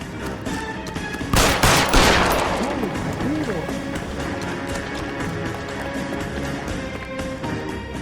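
Burst of gunfire from a shootout in the video game L.A. Noire, a loud broadband blast near the start followed by a decaying roar and scattered ricochet-like tones, over a busy game soundscape.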